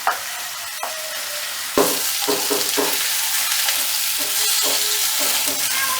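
Vegetables are stirred through hot oil in a pan, giving a loud, continuous sizzling hiss with a sudden surge partway through, followed by repeated scraping stir strokes, heard close up with no speech.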